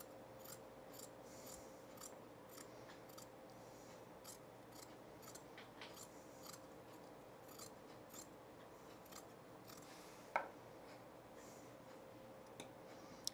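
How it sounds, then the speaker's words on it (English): Scissors trim the seam allowance of shirt fabric in a steady run of short, soft snips at close range, with one sharper click partway through; nobody speaks. "I'm just gonna trim the seam allowance down so that it's ready for the flat felt seam"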